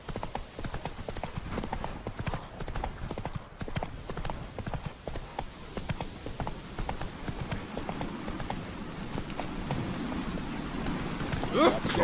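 Hoofbeats of Roach, Geralt's horse in The Witcher 3, clip-clop steadily at a trot for the whole stretch, close and fairly loud, with game voices speaking over them.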